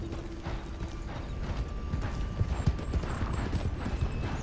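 Galloping horse hooves in Red Dead Redemption as a rider heads toward the Blackwater stable, a steady rapid clip-clop under game ambience with faint mechanical clicks, continuous and fairly close.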